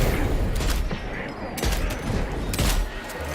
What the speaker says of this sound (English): I've just shot you in the head about 10 times.